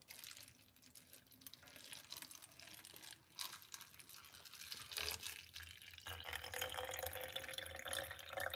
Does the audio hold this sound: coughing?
no